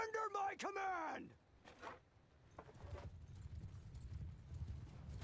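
Horse archers ride in the video game Bannerlord, hooves thudding in a galloping rhythm under a burst of loud shouting and groaning battle voices at the start, then a lower rumbling clatter of many horses.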